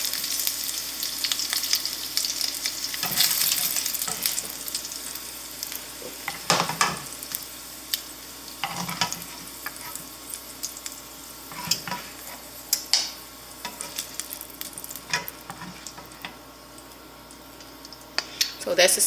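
Sausages brown in grease in a pan for New Orleans red beans and rice, with a steady sizzle broken by repeated scraping and stirring clatter of a utensil against the pan.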